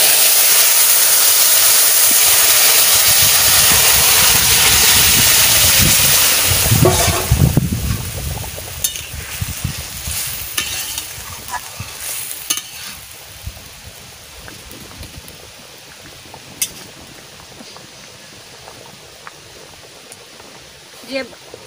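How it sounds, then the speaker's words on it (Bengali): Dried chillies and cumin drop into hot oil, setting off a loud, rushing hiss that fades after several seconds into a quieter crackle with occasional clinks, while a voice talks over it. "তেল গরম হয়ে গেছে, আমি কটা শুকনো লঙ্কা আর অল্প একটু জিরে দিয়ে দিচ্ছি।"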